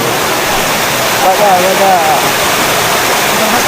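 Vanlaxmi waterfall at Vangani roars as a loud, unbroken wash of rushing water close by, while a voice speaks briefly over it.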